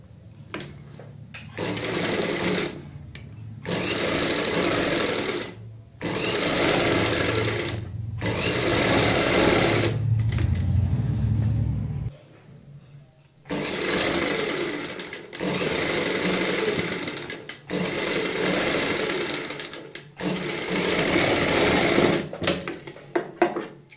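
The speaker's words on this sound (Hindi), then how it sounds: "जो हमारी ये पेपर पेस्टिंग होती है इसके साथ साथ हमें सिलाई लगानी होती है।" A sewing machine stitches the lining around a kurti neckline in repeated close, rapid bursts of whirring, each several seconds long, broken by short pauses. There is no talk.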